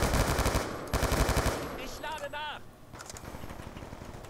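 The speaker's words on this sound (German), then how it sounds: "Komm, Geschütz, mach Kills." Sentry gun turret in Call of Duty Black Ops 2 multiplayer firing fast rhythmic bursts, loud and close, with a short pause of electronic chirps midway before more shots resume.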